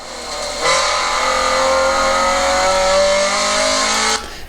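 A Scion FR-S race car revs hard at full throttle on track, its engine tone climbing steadily for several seconds in a loud, sustained near wail before abruptly cutting off.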